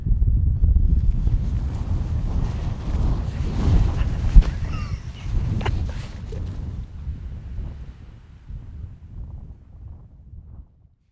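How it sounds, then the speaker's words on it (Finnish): Strong wind blows through open wilderness in the Kaldoaivi area of northern Finland, a loud, continuous roar buffeting the microphone that gusts, then slowly eases and fades toward the end. "vieläkin on liian kova tuuli"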